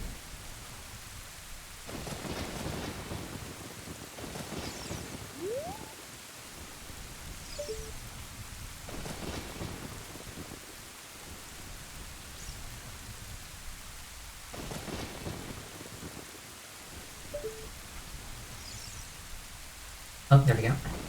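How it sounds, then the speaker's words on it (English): Rain and rolling thunder from the Song of Storms in Ocarina of Time, a steady downpour hiss with several deep thunder rumbles swelling and fading at intervals, plus a brief louder knock near the end. "the raindrops are splashing on top of the hole here"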